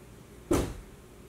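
A coral snake strikes once against the door of its enclosure, a single sharp knock that quickly fades into quiet room tone.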